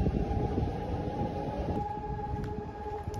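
A missile alert drill siren wails steadily in the distance over deserted Taiwan city streets, a faint sustained tone riding on a broad rumbling background with no talk.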